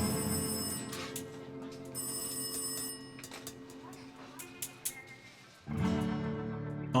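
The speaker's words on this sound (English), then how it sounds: "the phone rings again." A telephone rings in a couple of repeated electronic bursts over a steady musical drone, moderately loud, with the ringing breaking off before the music shifts near the end.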